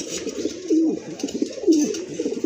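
A pigeon coos close by in low, rolling phrases, two clear calls repeating in a soft rhythm.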